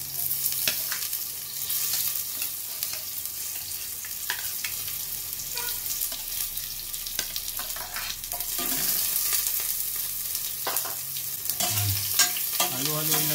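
Onions sauté in a hot pan under a constant close sizzle, while a utensil stirs and scrapes in irregular bursts throughout; no talking is heard.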